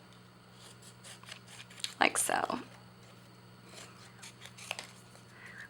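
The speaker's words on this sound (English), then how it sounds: "I'm going to use a pair of my scissors, and I'm going to cut out my cupcake liner" A short burst of scissors snipping through paper, cutting out a cupcake liner shape, close by, with a quiet voice speaking briefly around it.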